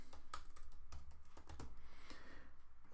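Rapid keystrokes on a computer keyboard as a city name is typed into a weather app, a quick run of close, crisp clicks spread across about three seconds with no talking.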